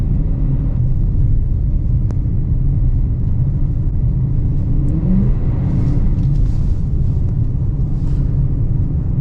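A Dodge Challenger R/T with traction control off spinning its wheels in snow, heard as a loud, steady low engine roar and rumble throughout, with faint higher whirring on top.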